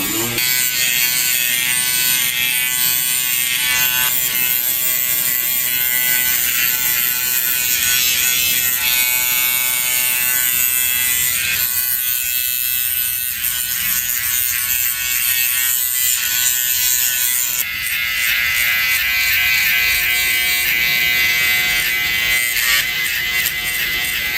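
Electric hair clippers buzz steadily and loudly throughout, cutting hair short to zero on the sides during a haircut, a continuous close motor whine with slight shifts in tone as the blade moves, no talking.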